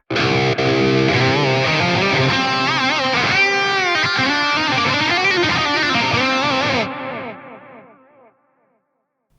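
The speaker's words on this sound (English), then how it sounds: "So in the stereo preset, I use a dual delay." Electric guitar chords ring out through a stereo dual delay, wide and shimmering, repeats trailing and fading into silence after the playing stops.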